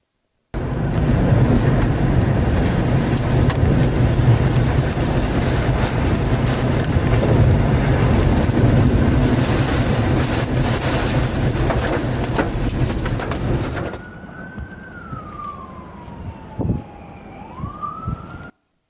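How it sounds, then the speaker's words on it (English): A violent wind and rain storm roars loud and steady as a dense, unbroken wash, then cuts off abruptly to a much quieter background where a single siren-like tone sweeps down and holds. "Violent wind"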